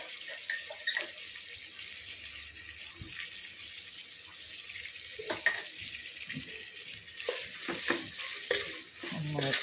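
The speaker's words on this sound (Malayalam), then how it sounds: "മിക്സ് ചെയ്ത് കൊടുക്കാം." Vegetables for pav bhaji, including beetroot, peas and tomato, being stirred in a pan, giving soft scraping and faint sizzling with intermittent clinks, quiet and close, with no talk.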